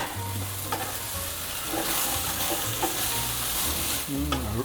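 Spiced taro root is stirred over low heat in a pan. A steady sizzle runs under repeated scraping strokes from a spoon or spatula, and no one talks.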